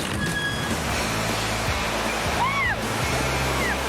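Water rushes and splashes steadily on the Master Blaster water ride at Schlitterbahn Water Park near San Antonio, Texas, a loud continuous wash with brief squeaky tones riding over it.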